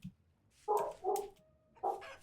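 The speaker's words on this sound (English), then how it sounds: "The dogs think so. You can probably hear them." Dogs in a house bark at a ringing doorbell: three loud, close barks, the first two in quick succession and the third after a short pause, with no talking.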